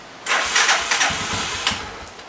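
A KTR150 motorcycle engine, recently fitted with DC ignition and a new rectifier, cranks and catches, then revs up in a few loud bursts before settling into a rough idle, close by.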